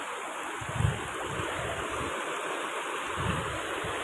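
Steady broadband rush of mountain stream water flowing near the top of a waterfall in a mountain setting, continuous and fairly loud, with a few low gurgling swells, no voices.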